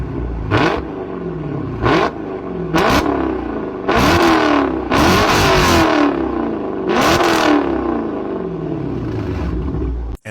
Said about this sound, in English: And the second car sound is Dodge Challenger.